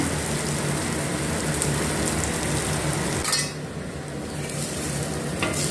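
Betel-leaf yam (valli kizhangu) frying in a pan, giving a steady, close sizzle with faint stirring scrapes; it dips briefly partway through, then carries on alone.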